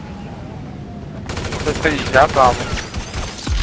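Gunfire in the video game GTA V during a bloody street war, a dense burst of rapid shots kicking in abruptly and rattling on under background noise while someone speaks French.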